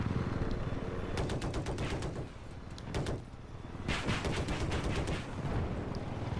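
Rapid gunfire and explosions from the first-person shooter Battlefield 4 pound loudly in dense bursts of shots, briefly easing before another long volley.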